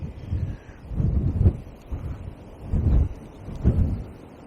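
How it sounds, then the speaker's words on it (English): Gusty wind buffets the microphone in low, rumbling surges by a small river in winter, rising and falling several times with no talking. "So we're sheltered behind 2 trees, so you can see how windy it is."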